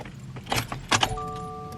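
A Subaru Crosstrek is switched on: keys jangle and click in the ignition, followed by a few sustained electronic chime tones, close and clear with no speech.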